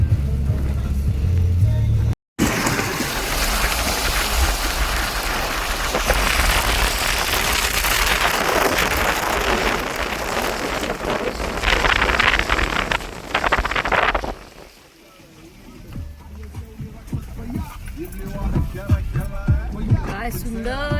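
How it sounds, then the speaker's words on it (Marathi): Rain during a car drive on a road toward Trimbakeshwar, Nashik, a loud steady patter and road rumble that cuts briefly, then fades to a quieter stretch with people chatting over it. "छान छान पाऊस, थंडगार वातावरण झालेलं आहे"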